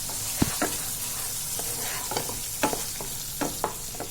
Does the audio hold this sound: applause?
no